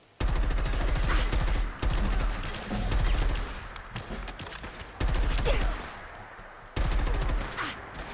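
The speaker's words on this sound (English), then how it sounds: "if you want to have a quick listen to what this rifle sounds like, I'll shut my mouth for a moment" Colt 723 (XM4) rifle fire in the video game Fallout 4: several loud, close bursts of rapid automatic shots with heavy booming low end, separated by short pauses, no speech.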